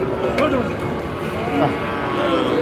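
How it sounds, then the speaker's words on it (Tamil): Cattle lowing at the Manapparai cattle market, a couple of drawn-out moos rising over busy open-air market noise with voices talking nearby. "கொஞ்ச நேரத்தில் பின்னாடி மாடு வந்துருச்சு"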